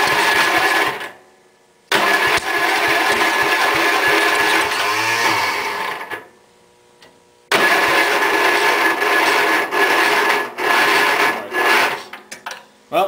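A Murray riding tractor engine cranks at full choke and wide open throttle in long, loud, close bursts of churning starter noise, separated by pauses, with a brief catch as it almost fires.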